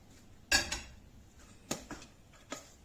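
Cooked rice and lentils stirred in a pot, with a few sharp utensil scrapes and clinks against the pot spaced apart, close and otherwise quiet.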